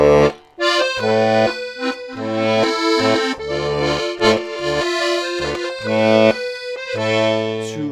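A 12 bass accordion plays a tune alone, with a sustained melody over rhythmic bass-and-chord button stabs pulsing steadily throughout.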